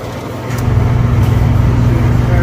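A reach-in cooler's condenser fan runs with a steady, loud mechanical hum and whir, holding a constant drone with a faint low tonal buzz, the compressor apparently off.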